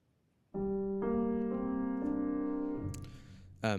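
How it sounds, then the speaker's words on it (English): Room-miked Deluxe Grand Ambience piano from Radical Piano sounds a slow run of sustained chords with a roomy, open ring, ending with a sharper higher chord struck near the close. "Deluxe Grand Ambience, which is just another type of microphone"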